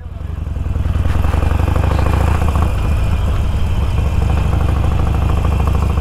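A motorcycle engine idles steadily and loudly up close, a continuous low rumble with clattering mechanical texture throughout.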